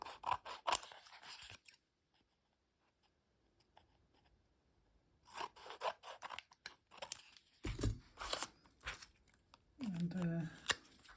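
Scissors snipping the edges of paper close by, a run of crisp cuts, a quiet pause, then more cutting and rustling paper, with a person talking softly throughout.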